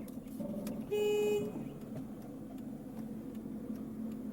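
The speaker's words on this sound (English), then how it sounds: "You just blew the horn." A car horn gives one sustained toot of about half a second, blown by a nervous learner driver during a three-point turn in a practice driving lesson, loud over the low hum of the idling car.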